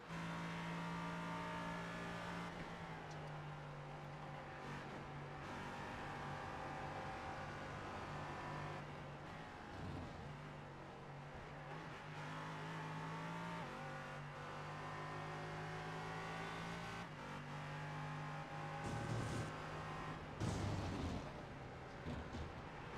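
A race car on an onboard lap at Road Atlanta in a racing video game drones continuously. The engine pitch rises and falls through repeated gear changes and lifts for corners, loud and close throughout.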